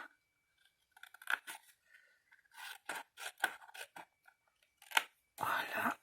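Scissors snip through paper while cutting pieces for a triptych advent calendar, a series of short crisp cuts in bursts, close and moderately loud, with brief pauses between strokes.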